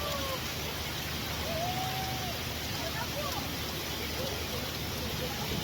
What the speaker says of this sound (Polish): To nie jest piękny, ciepły deszczyk.